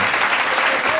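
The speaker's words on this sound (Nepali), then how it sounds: "हामी सबैजनाले एकचोटि ताली बजाएर हामी स्वागत" Wedding guests clap together in a church hall to welcome a newly married couple, a dense burst of applause from a crowd nearby, with a voice heard briefly under it.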